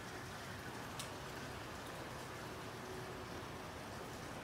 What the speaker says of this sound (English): It's raining ice and it's windy.